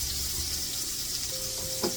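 Lamb loin, bone in, sears in a hot pan with a steady, close hiss of sizzling fat, continuous and even, with a faint brief clink near the end.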